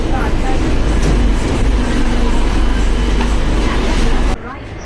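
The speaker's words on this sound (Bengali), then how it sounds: "চলে আসলাম দমদম মেট্রো স্টেশনে" Dense, steady rumble of a metro train running through Dum Dum metro station in Kolkata, loud and close with a broad roar throughout, cutting off sharply near the end.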